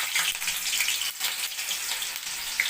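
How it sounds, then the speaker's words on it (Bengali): Potato peels deep-fry in hot white oil over a medium flame, giving off a dense, even, crackling sizzle that stays close and loud throughout without a break, with no speech. "এরপর এক এক করে আলুর খোসাগুলো ফ্রাই,"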